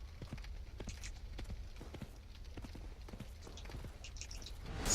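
A heavily armoured boar in a Dark Souls-style video game trots along, its hooves making a steady, rhythmic clip-clop, fairly close, with no voices.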